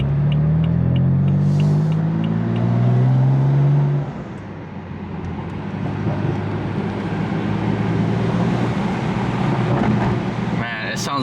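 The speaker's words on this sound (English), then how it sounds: "the pops are a little bit more crisp on the burbles" BMW F80 M3 with resonated downpipes idling and revving in sport mode, a deep exhaust drone that drops after a few seconds into a rumbling burble with faint crackling pops.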